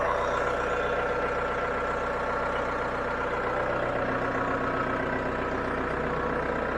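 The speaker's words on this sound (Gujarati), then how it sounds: "જો મિત્રો, ટ્રેક્ટર ચાલુ થઈ ગયું છે," A tractor's engine runs steadily just after starting, a close, even, low diesel rumble with no pauses and no voices.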